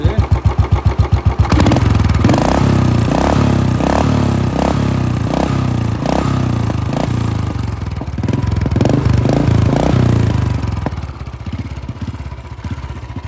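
A modified motorcycle fitted with an aftermarket 6000-type silencer exhaust, running close by and loud. It opens with sharp rapid popping, then settles into a steady throbbing idle broken by a series of rhythmic throttle blips, and eases off at the end.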